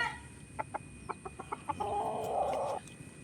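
A white Kelso gamecock gives a run of short, evenly spaced clucks, then a longer drawn-out call, close and fairly loud with no talk over it.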